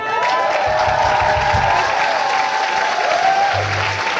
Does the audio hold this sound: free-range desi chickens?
no